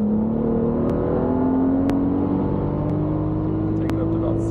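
A BMW N55 turbocharged engine pulls hard in fourth gear from about 2,500 RPM, a steady rising drone climbing in pitch under wind and cabin noise, with a few faint clicks along the way.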